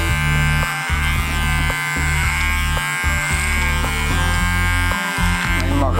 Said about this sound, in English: Dat is wel een goede tondeuze.